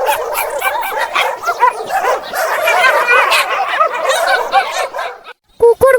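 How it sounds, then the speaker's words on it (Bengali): A pack of hunting dogs barks and yelps in a forest, many overlapping excited barks and whimpers close by in a dense, continuous chorus that breaks off briefly near the end before a few final yips. "তারা অনেকগুলো শিকারী কুকুরের চিৎকার শুনতে পেল।"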